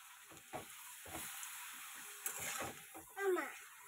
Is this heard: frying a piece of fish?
yes